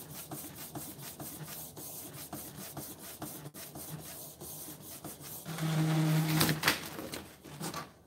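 A home printer running off an edible cake image for decorating, a steady rubbing, rasping mechanical whir with a louder, brighter feed pass near the end, no talking.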